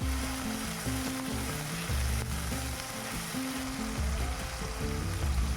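Spice paste of fried onion, ginger and garlic sizzles in a wok after a little water is added, a continuous close crackling hiss over soft background music.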